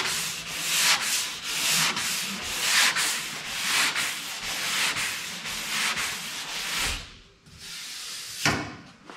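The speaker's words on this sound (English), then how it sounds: "a little bit more sanding in here" Sandpaper rubbed by hand across a surface in steady back-and-forth strokes, loud and close, with a rhythmic rasp that slows and breaks off near the end.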